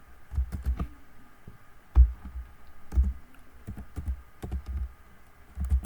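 Python code being typed on a computer keyboard: close, irregular clusters of key clicks and thumps with short pauses between bursts, no talking.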